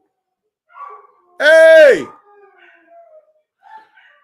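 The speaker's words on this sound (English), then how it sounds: "these dogs, these dogs is wilding" Several dogs bark and howl loudly in one drawn-out, wavering howl-bark near the middle, with short yips before and after, and someone speaks briefly.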